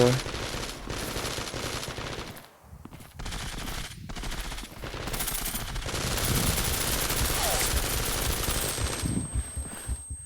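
Rapid gunfire in a first-person shooter match, AWP sniper and rifles: bursts of automatic fire and sharp shots, loud and dense through most of the stretch, with brief gaps and faint voices.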